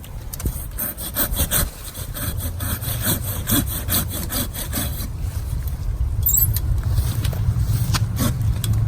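A hand saw cuts through a thick tree branch close to the trunk with a fast, rasping back-and-forth rhythm of wood strokes, slowing and growing rougher near the end.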